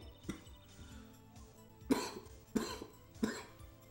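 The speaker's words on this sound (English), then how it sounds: "I just had a bit of a coughing thing" Several short coughs, the last three sharp and evenly spaced, over quiet background sound.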